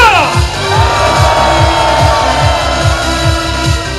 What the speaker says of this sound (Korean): 큰 함성 다시 한번 하겠습니다.